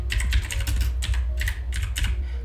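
Bursts of quick, close keyboard clicking while text is typed into a Microsoft Word document, several short runs of keystrokes separated by brief pauses, with no speech.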